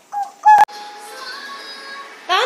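A voice imitates a rooster crowing, a short high call followed by a sharp burst, with faint room noise and another brief call at the end.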